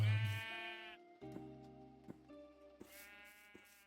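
Blocky sheep in Minecraft bleat in two clear wavering calls, one at the start and another near the end, with quiet game clicks and footsteps between them.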